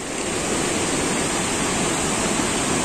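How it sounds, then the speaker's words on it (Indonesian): Heavy, constant rushing roar of falling water near the third tier of Lubuk Hitam waterfall in West Sumatra, loud and close with an even, unvarying wash and no voices. "ini kita sudah hampir sampai di air terjun Lubuk Hitam tingkat 3"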